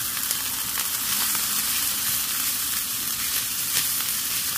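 Ground meat frying in a pan with onions already caramelized, giving a steady, dense close sizzle with faint stirring scrapes and no talk.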